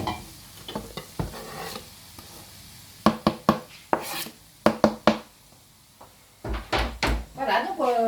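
Garlic and vegetables sizzle in a pan for Korean sundubu jjigae while a utensil stirs with sharp, scattered clinks and scrapes, heard close up under a person talking.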